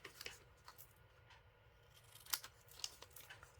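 Scissors snip paper for a handmade mini album, a few sharp crisp cuts spaced apart over a quiet room background, with one louder snip near the middle.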